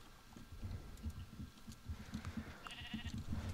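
Minecraft sheep bleating on a game server, a string of soft, faint bleats that repeat throughout with no one speaking.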